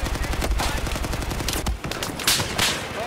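Gunfire rattles in Battlefield 4 as sustained bursts of automatic shots, loud and close, with a brief gap and then more heavy rapid fire.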